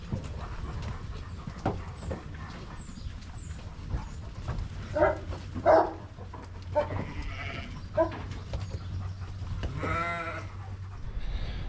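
Hill ewes on a sheep farm bleat several times, at moderate distance and spread out over steady outdoor background noise.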